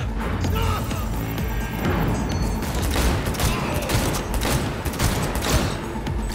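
Rapid bursts of gunfire in the video game Cyberpunk 2077, with dense, loud overlapping shots and impacts filling the whole stretch.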